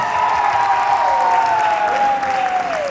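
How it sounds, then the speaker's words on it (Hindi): An audience claps steadily and loudly for the whole stretch after a couple's dance at a ring ceremony and sangeet celebration, with a sustained tone sliding faintly underneath. "अगर तुम लोगन को इन दोनों का डांस अच्छा लगा है तो कोनो तालियां बजाइए"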